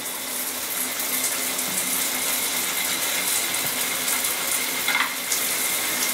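A domestic shower in a UK house runs with its pumps switched off, giving a steady, fairly loud hiss of falling water with no pauses.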